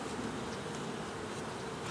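Honeybees buzzing around an open hive while a hobby beekeeper cleans the floor board, a soft continuous drone with faint individual wingbeats close by.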